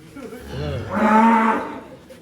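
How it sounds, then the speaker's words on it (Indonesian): A Madura cow gives a single loud, close moo that rises into a strong, drawn-out bellow and then fades. No one speaks during it. "Mas Amin di sini mau berburu sapi Madura atau sapi apa ini"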